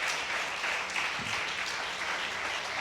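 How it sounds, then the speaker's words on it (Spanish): Church congregation applauding during a service, a steady, fairly loud round of clapping sustained throughout without speech. "Dale ese aplauso al Señor."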